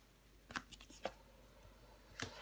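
Tarot cards sliding and slapping lightly onto one another, a few soft quick papery taps close by in a quiet room.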